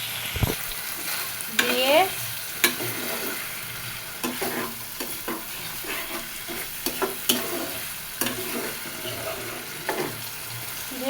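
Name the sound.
water added to frying potatoes and eggs, sizzling while stirred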